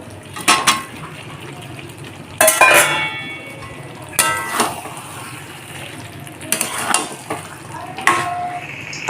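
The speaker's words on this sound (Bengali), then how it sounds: "চিকেনটা কষানো প্রায় হয়েই এসেছে আরও মিনিট দশেক কষিয়ে নেব" Chicken kosha cooks in a pan without added water, giving a low sizzle while a utensil scrapes and clatters against the pan in irregular bursts of stirring, close and fairly loud, with no talking.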